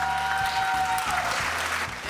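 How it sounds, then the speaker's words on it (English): A studio audience on a cooking and lifestyle show applauds briefly, with a hiss of clapping over a steady, thumping music bed. "Give them a round of applause."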